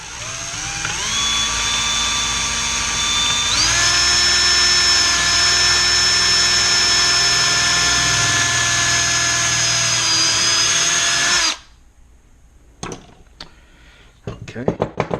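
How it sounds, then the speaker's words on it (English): A power drill whines loudly at a steady pitch for about eleven seconds while drilling through a circuit board, stepping up once in speed, then stops, followed by a few faint clicks and handling sounds. "I'm going to drill through that area that I talked about before."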